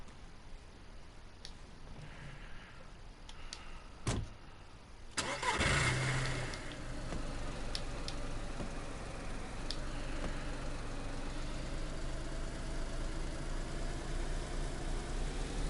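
In DayZ on PS4, a car gives a few faint clicks and knocks, then its engine cranks and catches partway through and settles into a steady, close idle that runs to the end, with no talking.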